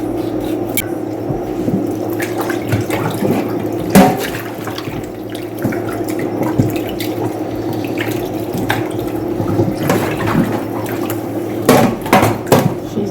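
Tap water running steadily into a sink while a raw turkey is rinsed, a close, continuous splashing flow with occasional louder splashes and drips, no talking.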